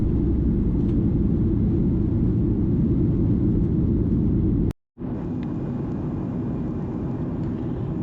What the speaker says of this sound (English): we traveled on out and up into the air with Southwest Airlines